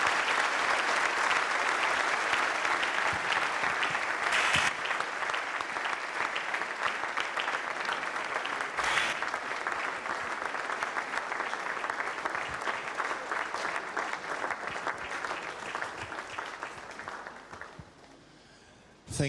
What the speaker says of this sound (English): Please, can we give him a round of applause again?